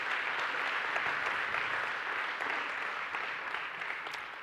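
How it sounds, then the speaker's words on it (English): A conference audience at an African markets event gives a steady round of applause, dense even clapping from many hands that holds throughout and fades slightly at the end. "really we should give all of them a round of applause."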